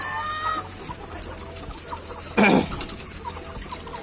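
Chickens in a livestock coop give scattered soft clucks throughout, with one louder burst of clucking partway through against a steady farmyard background.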